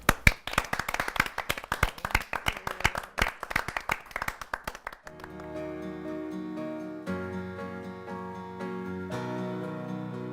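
Live audience claps for a singer: a few seconds of scattered, uneven hand claps that die away as piano-like musical tones take over.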